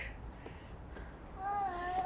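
Crow-like caws ring out a few times, with a high whistling tone rising later over a steady background murmur.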